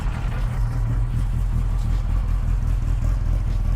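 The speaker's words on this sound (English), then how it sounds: "You can hear the high performance clutch." A 1965 FIA-registered Mini Cooper S rally car engine running steadily close by, a deep, continuous rumble with a low throbbing note and no voices over it.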